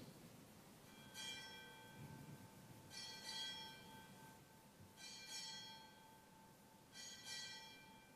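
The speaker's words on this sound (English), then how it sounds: "Time orderly, strike 8 bells." A ship's bell struck eight bells at a United States Navy change of office ceremony, sounding as four evenly spaced pairs of bright metallic strikes that ring out over a quiet ceremonial space.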